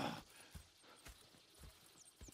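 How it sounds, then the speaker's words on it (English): Faint, soft hoofbeats of horses in Red Dead Redemption 2, a slow, irregular clip-clop in the distance under a quiet game soundscape. "Go check the horses are ready."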